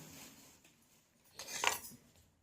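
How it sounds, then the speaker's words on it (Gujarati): Utensils clink against a dish while roasted eggplant is cut up in a quiet room, with a brief louder scrape and knock midway. "હવે આપણે તેને કટ કરી લઈશું આવી રીતે ઝીણું કરી દેશું"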